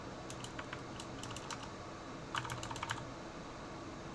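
Vim commands typed on a computer keyboard, soft, close key clicks coming in small scattered clusters, with a quicker burst of keystrokes near the end, over quiet room tone and no talking.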